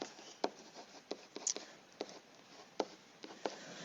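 Quiet, close scratching of a pen writing by hand during a math lesson: short irregular strokes and taps spaced through a soft background hum, with no talking.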